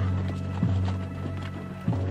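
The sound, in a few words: cavalry horses galloping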